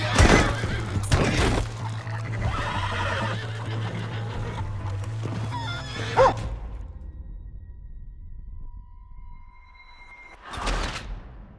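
A horse in Red Dead Redemption 2 whinnies loudly amid clattering hoofbeats and scuffling, then the noise drops away to quiet tones before a final burst of movement.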